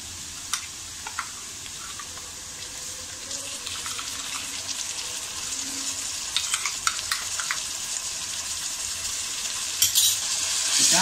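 Green masala paste frying and being stirred with onions in a pan for prawn biryani, a steady bright sizzle with scattered scraping clicks of a spoon, close and continuous with no talking.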